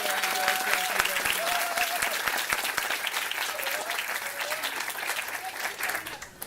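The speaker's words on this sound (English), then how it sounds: "how about we have a round of applause for Kathy?" Wedding guests applaud steadily and fairly close, a dense wash of clapping with a few voices and whistles cutting through the crowd.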